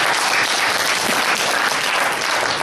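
A church audience claps for a brother, loud dense applause from many hands sustained evenly throughout, close and full with no pauses.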